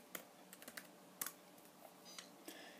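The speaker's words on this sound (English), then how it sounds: "type the password" Fingers type a password on a Mac keyboard, a quick uneven run of soft, close key taps heard alone in a quiet room.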